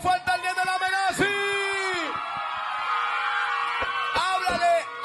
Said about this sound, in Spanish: ¡Aplauso fuerte al Nene Lamenazzi!